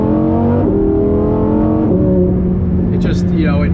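A Lamborghini Huracán Performante in Corsa mode accelerates hard, its loud, close engine pitch climbing steadily and then dropping sharply at each of two crisp gear shifts, with a voice speaking over the engine near the end.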